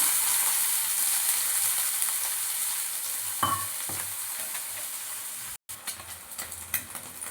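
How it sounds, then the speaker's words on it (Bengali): Onion fries in oil under a steady hiss while a utensil stirs it with scraping knocks, followed by a brief gap and then a few sharper clatters of stirring. "পেঁয়াজটা দিয়ে দিলাম"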